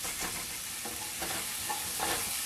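Onions and garlic cooking down in a pan, a continuous close sizzle with soft stirring scrapes, no talking.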